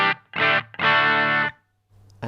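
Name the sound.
electric guitar through overdrive effect on Line 6 HX Effects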